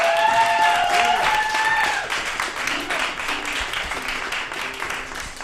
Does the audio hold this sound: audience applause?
yes